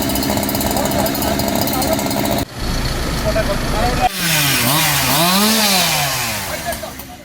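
A fire force crew's chainsaw cuts up a huge cashew tree that fell onto an electric line beside a busy road during monsoon rains in Tirur, Kerala. The engine revs and whines loudly in rising and falling surges, with a voice heard alongside.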